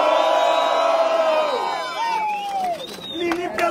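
A live crowd at a rap battle in the Batalha do Coliseu roars and cheers loudly, a dense wash of voices that swells and then fades, with shouted calls and a host's voice cutting through.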